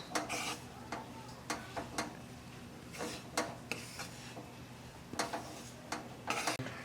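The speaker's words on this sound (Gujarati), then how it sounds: "હવે આ બધાને આપણે પહેલાં સારી રીતે મિક્સ કરી દઈશું।" A spoon stirs grated coconut and milk powder for Mandvi Paak in a metal bowl, giving a series of light, irregular scraping taps and clinks, close and alone.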